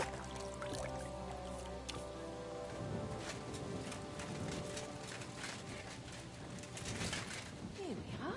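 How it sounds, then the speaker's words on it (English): Beer poured onto a table in Kingdom Come Deliverance 2, a faint wet splashing and dripping patter following a low hum, quiet and continuing for several seconds. "Why the hell do they pour the beer on the table?"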